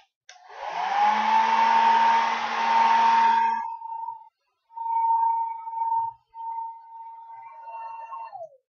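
A handheld hair dryer blows on freshly applied face and beard makeup with a loud, close, rushing whir. One long run is followed by two shorter bursts, and the motor winds down at the end.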